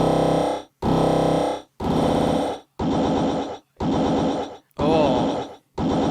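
Toad sound convolved through a convolution plugin, heard as seven loud, gritty, groaning bursts of nearly a second each, separated by brief silences and repeating in a steady rhythm.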